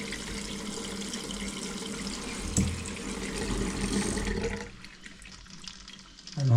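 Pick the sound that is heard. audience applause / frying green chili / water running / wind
water running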